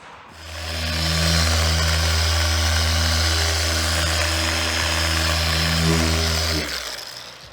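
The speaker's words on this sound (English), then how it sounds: "So this is actually a special machine which won't leave any swirl marks in the paintwork. So all we're doing is buffing it up" A polishing machine buffing the paintwork of a Tesla gives a steady, loud motor drone with a low hum. It starts up, holds for about six seconds and then winds down.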